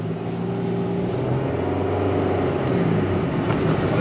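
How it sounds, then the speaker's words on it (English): A smooth V6 engine in a car pulls away, a steady mid-pitched hum that builds gently under constant road noise, close and even throughout with no voices. "the noise from the V6 is just so smooth"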